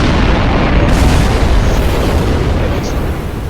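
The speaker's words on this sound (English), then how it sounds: "It makes a really gargantuan explosion that launches enemies upwards like crazy." A huge in-game ability explosion in Roblox Elemental Awakening that launches enemies upward, heard as a loud, sustained broadband boom and rumble filling the whole stretch at close range.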